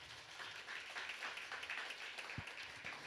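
A church congregation applauding during a Sunday worship service, a soft, distant, steady patter of clapping in a large room for about three seconds.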